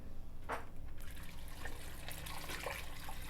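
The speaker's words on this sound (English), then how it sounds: "We're going to cover this with water" Water pours into a pot over chopped Yukon Gold potatoes, a soft, steady splashing and trickling fill with brief louder gurgles, close and quiet, with no talking.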